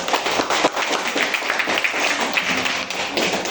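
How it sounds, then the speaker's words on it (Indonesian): A classroom group claps for a student group, close and lively, with a brisk patter of individual hand claps that continues steadily throughout. "Tepuk tangan untuk kelompok ini"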